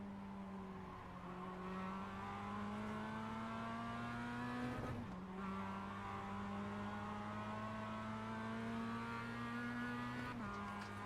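Race car engines roar in a racing video game, a loud continuous high-revving drone with two sharp gear shifts where the pitch drops and climbs again.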